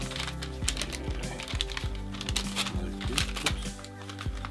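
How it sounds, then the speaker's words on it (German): A gift bag from a book fair being opened close to the microphone, with a run of crisp paper rustles and crinkles handled continuously and fairly loudly, no talk over it. "Die Tüte hier aufmachen."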